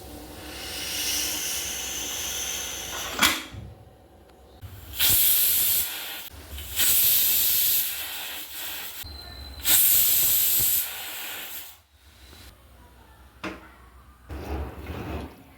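Pressure cooker cooking lentils with water, turmeric and salt, releasing loud bursts of hissing steam in several repeated spurts with short quieter gaps between them.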